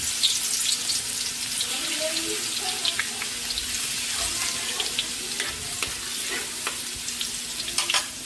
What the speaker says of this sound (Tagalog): Magigisa na po tayo para sa ating pansit. Kain na natin yung bawang.